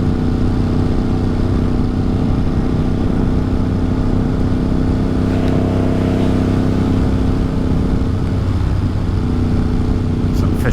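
Motorcycle engine droning steadily while riding a dusk errand through the Catskill Mountains, loud and continuous with wind rush, holding a constant pitch throughout.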